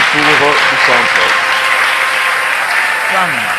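Audience applause opening a show held in a church, a dense continuous clapping throughout, with a voice speaking over it near the start and end.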